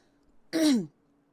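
A single short, close throat clearing from a man getting over a cough, one gravelly burst lasting under half a second in an otherwise quiet room.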